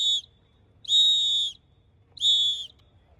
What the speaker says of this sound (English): He blows that whistle in my ear, right?